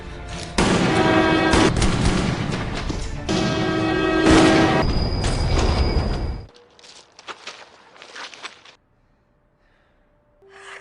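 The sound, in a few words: gunshots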